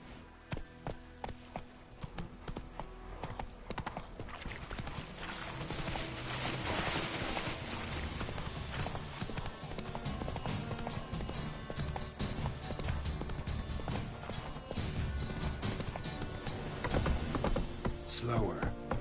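The horse Roach trots in the video game Witcher 3, rhythmic hoof clip-clops running continuously over a dense bed of game ambience and music.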